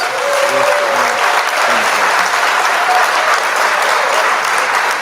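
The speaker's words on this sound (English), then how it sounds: "Let's give him a round of applause." A round of applause for a man who just made it, congratulated by the crowd: dense, steady clapping fills the full five seconds at an even, fairly loud level without letting up.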